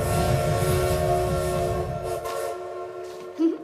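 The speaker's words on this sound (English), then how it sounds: "There's your train." A train arrives as a theatrical sound effect on stage, a loud, sustained rumble beneath steady whistle-like horn tones that fade out, then a brief bump at the end.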